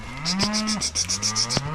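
A cow moos loudly and close by during calf weaning, a single drawn-out low call with a steady pitch.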